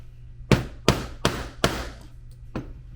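Five sharp hammer blows on a rivet setter while fixing a rivet on a fanny pack, the first four in quick, even succession, then a pause before a lighter fifth strike, close and loud.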